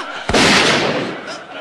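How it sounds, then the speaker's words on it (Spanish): A single loud gunshot from a Spanish-language television comedy scene, a sharp close blast that decays into a long noisy tail, followed by a brief faint burst near the end. "Voy a rematarte de otro disparo más en la cabeza"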